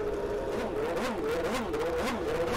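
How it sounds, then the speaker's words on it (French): A car engine revs with wavering pitch, rising and falling in quick swells like a tuned car. It is moderately distant and carries a whirring edge, with no clear talk over it. "On dirait vraiment le bruit des bagnoles Keke Tuning du dimanche."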